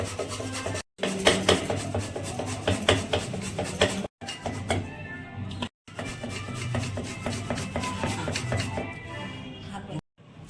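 Vegetables such as papaya, potato, carrot and beet are rasped on a hand grater in quick repeated strokes, close and scratchy, broken by a few brief pauses, with a voice talking at times.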